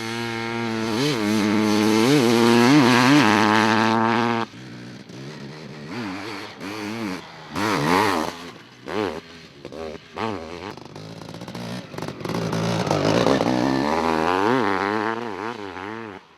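A Honda CR 500 two-stroke motocross motorcycle revs hard, its engine climbing and falling in sharp rising whines, then choppy blips and a final sustained high-revving run, loud and close with no talk.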